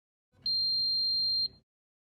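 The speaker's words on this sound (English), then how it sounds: "listen for a single beep during power-up" A remote undogging module retrofitted into a Von Duprin rim exit device gives a single clean electronic beep at power-up, lasting about a second, with faint background noise.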